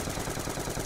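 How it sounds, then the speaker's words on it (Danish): Rapid gunfire from a weapon in Black Ops 2 Zombies, a dense continuous burst that sounds like a laser gun, steady and loud for under a second. "Det lyder som sådan en laserpistol."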